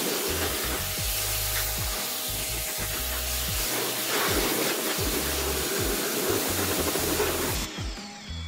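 A pressure washer with a 25-degree nozzle sprays steadily to rinse a car tire and wheel, a loud continuous hiss lasting several seconds before cutting off near the end.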